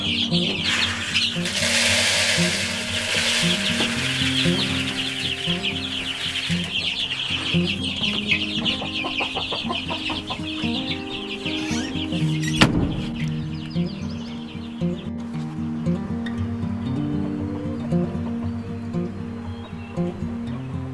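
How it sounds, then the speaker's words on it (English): Meat bird chicks and hens cluck and cheep continuously at close range on a farm, with a brief burst of wing flapping partway through and steady farmyard chatter throughout. "We need to check on the meat bird chicks and make sure they all survived the night."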